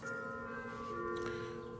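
A church bell, the Zion bell, rings with a steady, sustained metallic tone and lingering overtones that hold evenly throughout, fairly close and heard alone.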